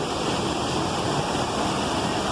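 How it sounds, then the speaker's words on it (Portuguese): A waterfall in the Amazon forest roars as a dense, steady wash of falling water, loud and unbroken for a couple of seconds with no voices. "uma queda d'água linda dessa"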